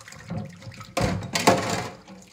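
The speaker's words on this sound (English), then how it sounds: "We're gonna get our rag wet." A kitchen sink tap gushes briefly as a dish rag is wet before hand-washing dishes, a close, short splashing rush that swells twice and fades, with no talk.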